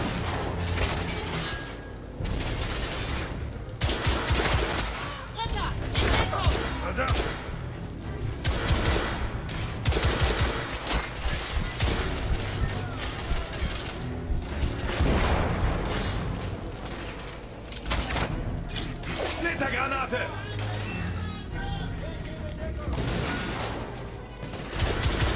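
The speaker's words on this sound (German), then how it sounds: "Werde beschossen." Gunfire in the video game The Order 1886, with sustained rattling bursts and heavy shots going on almost without a break, loud and dense throughout.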